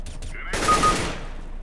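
Gunfire in CS:GO on the Dust 2 map: a couple of faint clicks, then a single loud, sharp shot with a ringing tail that fades over a second.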